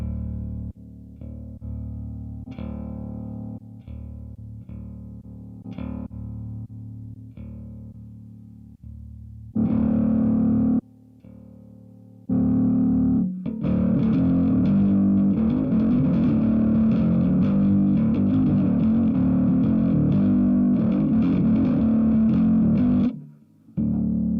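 A bass guitar plays through a Line 6 Helix LT's Cali bass amp model, starting with sustained low notes, then after a short pause a louder, gritty, driven riff of busy picked notes runs until a brief cut near the end.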